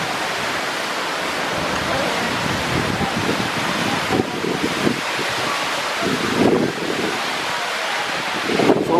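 Steady wind rushes through a Utah canyon near flowing water, a continuous broadband roar with gusty swells and buffeting against the microphone throughout.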